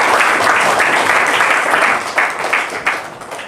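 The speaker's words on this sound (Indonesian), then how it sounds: "Oke, tepuk tangan buat teman kamu." Classroom applause for a student, a loud burst of many hands clapping that rolls on steadily and thins out into scattered claps near the end.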